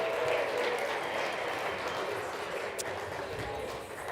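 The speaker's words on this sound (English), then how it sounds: "Let's give her a round of applause." An audience at a winter speaker event and livestream gives a round of applause, a sustained wash of clapping that holds steady and fades slightly near the end, moderately distant.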